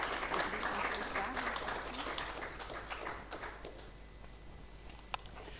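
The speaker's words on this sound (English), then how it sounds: "an applause for this beautiful film" Steady applause from an audience at a film screening fills the room, dense and continuous at first, then thinning out toward the end with a few scattered claps.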